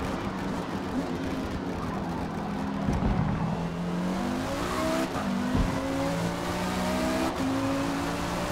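KTM GT2 race car engine in Forza Motorsport at Le Mans, roaring steadily with rising gear-pitch sweeps as it drafts past an Audi R8, with brief tire noise and continuous loud racing sound throughout.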